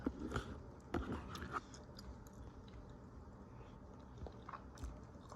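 Someone eating a meal of rice chews close by but quietly, with soft crunchy bites and mouth clicks that are strongest in the first couple of seconds and then settle into faint, steady chewing.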